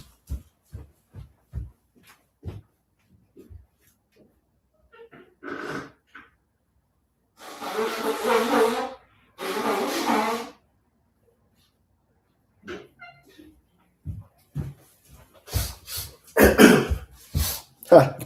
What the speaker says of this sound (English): You probably hear me in the background, blowing my nose